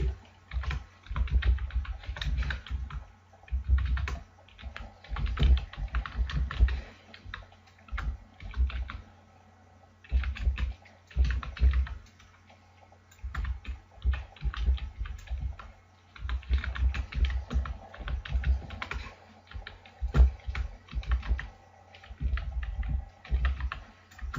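C++ code being typed on a computer keyboard: close, steady bursts of rapid key clicks in uneven runs, broken by short pauses, with no talk.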